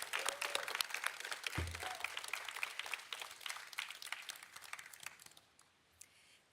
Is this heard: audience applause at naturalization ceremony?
yes